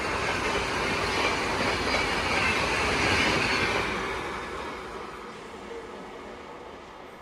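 A train passes at high speed close by with a loud, broad rushing roar that swells to a peak and then slowly fades as it moves away.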